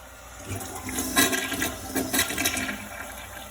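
A household toilet flushes after a wad of toilet paper is dropped in during a clog-clearing check, a steady rushing swirl of water with surging peaks, close and alone with no talking.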